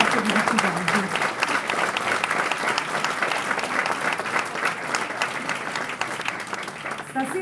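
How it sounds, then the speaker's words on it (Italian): Dense, steady applause from an audience at an outdoor literary event in Pescasseroli, greeting a guest seated in the front row; loud, continuous clapping with faint voices mixed in underneath. "Laura Boldrini, al quale va un grandissimo applauso da parte di tutti quanti."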